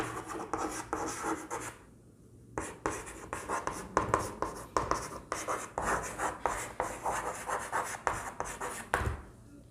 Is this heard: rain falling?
no